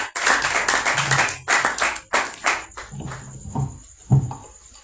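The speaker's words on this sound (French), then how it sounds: "Sous vos acclamations, s'il vous plaît." A church audience at a Purim gathering bursts into scattered, uneven clapping with a few shouts, close and fairly loud, thinning toward the end while a faint high tone lingers.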